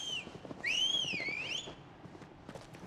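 Whistling in the video game Final Fantasy 16, a single rising and falling whistled call about a second long over soft footsteps and hoof-like ambience.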